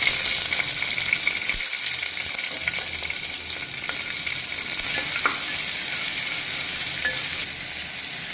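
Sliced onions sauté in hot oil with cloves, cinnamon and bay leaf for a beetroot pulao, giving a steady, loud sizzle close by, broken by occasional scraping stirs in the pan.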